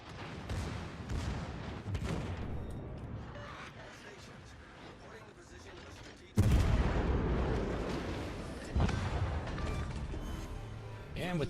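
Heavy naval guns boom in World of Warships battle around the cruiser Petropavlovsk firing HE shells, with loud deep salvos landing at intervals amid rumbling explosions while someone talks over the action.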